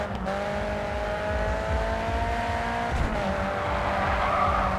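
Racing car in Grid 2 skidding with sustained tire squeal over a steady engine drone, a sharp impact jolt near the end of the slide, loud and close with no talking.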